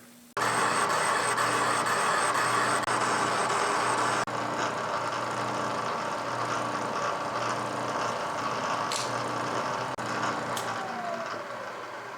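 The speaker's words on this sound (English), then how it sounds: "So I've bored it out almost up to 1 inch, and there's still damage down in there" A Yates American B244 lathe bores out the damaged bore of a flat belt pulley, giving a steady, loud mechanical hum with faint tonal whine that runs continuously, with no talking.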